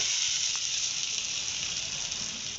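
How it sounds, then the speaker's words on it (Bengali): Washed lentils (dal) hit hot oil in a heated karai, giving a steady close hiss of sizzling frying with a sharp crackle burst near the end. "কড়া গরম হলে তেল দিয়ে দিচ্ছি এবার ধুয়ে রাখা ডালটা দিয়ে দেব"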